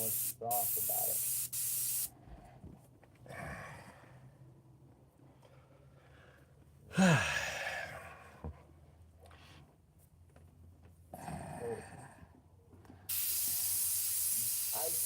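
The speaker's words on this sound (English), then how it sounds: "is what's coming out of your airbrush and hitting your canvas" An airbrush sprays paint onto canvas in sharp hissing bursts, a loud spray at the start and again near the end, with a person talking quietly in between.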